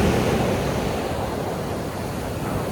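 Continuous roar of surf washing on a black volcanic sand beach in Bali, broad and steady with a slight swell at the start, no voices.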